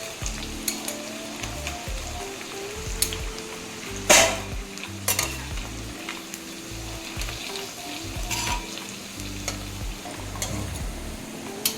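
Taro root (arbi) pieces with a few curry leaves frying in oil in a pan, a steady soft sizzle broken by occasional stirring scrapes and light utensil clinks, with no voices.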